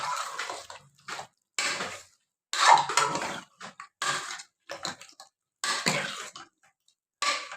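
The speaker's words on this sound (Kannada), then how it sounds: "ನೆಕ್ಸ್ಟು ಚೆನ್ನಾಗಿ ಎಲ್ಲ ಇದನ್ನು ಮಿಕ್ಸ್ ಮಾಡ್ಕೋಬೇಕು" A spoon scrapes and clanks against a pot while chicken sambar ingredients are stirred and mixed, in irregular bursts of metallic scraping with short pauses between strokes, close and moderately loud.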